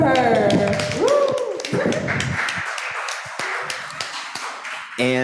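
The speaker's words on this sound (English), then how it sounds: "A round of applause for her." A student audience applauds after a speech, scattered close hand claps and a few cheers that thin out over several seconds, with a voice speaking briefly at the start.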